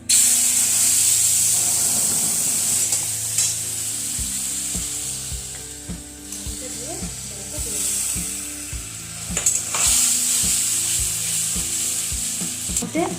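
A dry red chilli and cumin seeds crackle in hot oil, then boiled spinach water is poured in, and a steady loud sizzle and hiss carries on under background music.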